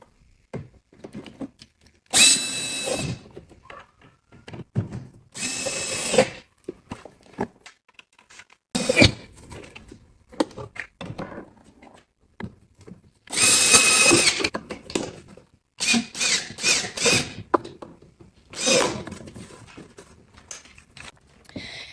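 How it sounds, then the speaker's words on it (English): A power drill drives screws through wood trim into a cabinet, firing in short loud whirring bursts separated by quiet gaps, close to the listener. "then just reused the original screws to secure it back to the cabinet"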